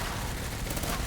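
Submachine gun fire in the Resident Evil 9 video game, a dense, steady burst of rapid shots filling the whole short moment at high loudness with no pauses.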